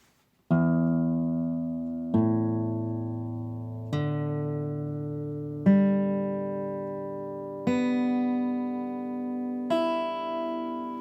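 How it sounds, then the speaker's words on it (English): Six separate chords strummed on a freshly tuned acoustic guitar, each left to ring out and fade before the next, evenly spaced and clear with no talking. "When you get the guitar tuned, it should sound like this."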